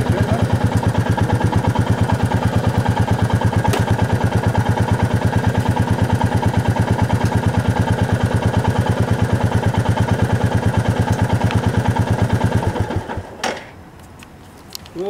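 New Royal Enfield Meteor 350 motorcycle engine idling close by, a steady rapid thumping beat with mechanical clatter that runs evenly for about twelve seconds, then cuts off abruptly into near silence.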